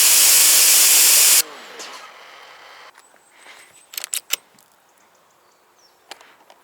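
A cordless pressure washer in turbo boost mode at 800 psi blasts a loud, close spray hiss for over a second and then cuts off, followed by quieter clatter and a few sharp knocks.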